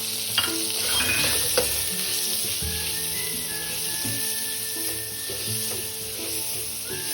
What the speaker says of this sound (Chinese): 预先备好200克花肉，切成小颗粒状，加入一起爆香